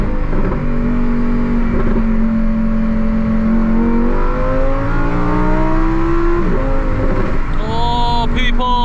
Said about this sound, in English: I can hear the engine from behind screaming